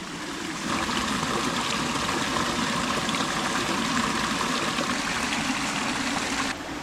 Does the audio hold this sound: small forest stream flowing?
yes